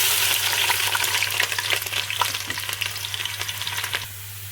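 Chopped onions hit hot oil and fry in a pan, giving a dense, continuous hiss and crackle with small popping bursts up close before the sizzle settles slightly quieter at the end.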